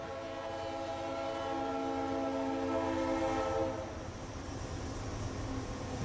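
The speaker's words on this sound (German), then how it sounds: "Täglich 84 Züge, die hupend vorbeifahren." Passing train sounding a long, steady multi-tone horn at moderate distance, the blare holding for several seconds before cutting off into the rumbling wash of the rail cars rolling by.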